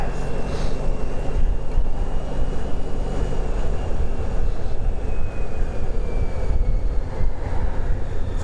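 A Honda Pan European ST1300 motorcycle cruises at speed, its steady engine drone blending with loud, constant wind and road roar throughout, with no speech.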